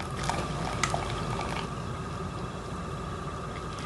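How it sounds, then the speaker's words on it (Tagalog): Hot water from blanched pho rice noodles draining off, a steady close pouring and trickling wash with a few small splashes and clinks near the start. "I-drain natin yung water."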